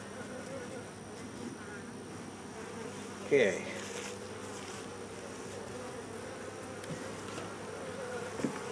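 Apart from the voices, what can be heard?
honey bees buzzing in a beehive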